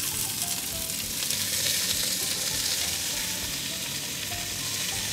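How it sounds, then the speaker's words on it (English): Beef seared in batches in an enamel cast iron pot on an induction hob gives a steady, dense sizzle and crackle of frying that holds at an even level throughout, with no voices. "I want to sear the beef in batches so I don't overcrowd the pot."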